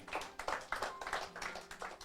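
Hand clapping during a church sermon on faith, about nine fairly even, distinct claps in a steady rhythm, close and moderately quiet, with no talk over them.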